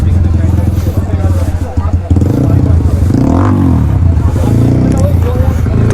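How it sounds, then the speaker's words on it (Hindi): A dirt bike engine at a dirt-track event in Kolkata runs loud and steady throughout, with a rising rev near the middle, over crowd chatter and people talking nearby. "dirt bike"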